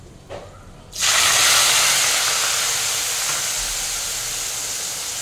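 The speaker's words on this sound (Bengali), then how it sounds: "চিনিটা আমার পুরো ক্যারামেলাইজ হয়ে গেছে, এবার আমি পেস্টটা অ্যাড করে দিচ্ছি।" Spice paste drops into caramelized sugar and hot oil with a sudden loud sizzle, a bright hissing burst that holds strongly and slowly eases over a few seconds, close up and alone.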